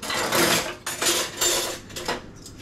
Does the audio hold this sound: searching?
yes